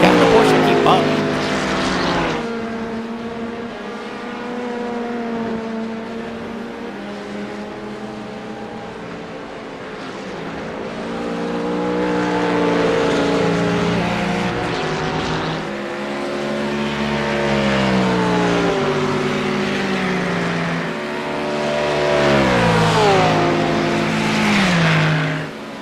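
A Ford Mustang and a Porsche race at Silverstone in a racing game, their engines howling and rising and falling through the gears as they lap together, heard loud and continuous.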